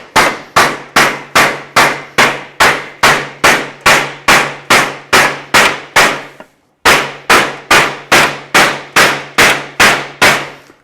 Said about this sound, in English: So what I'm trying to do is hammer and just kind of fill all these marks in